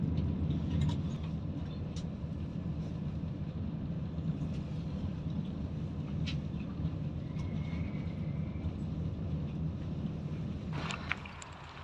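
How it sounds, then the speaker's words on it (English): Steady train station ambience, a continuous low rumble and broad hiss with a few faint distant clicks and a brief louder knock near the end, with no voices. "Gareth will be so jealous I'm stood here at train station while he's working down London"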